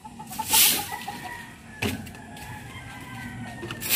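Chickens cluck and call nearby, with a short rooster-like squawk early on and a knock partway through, against low background noise.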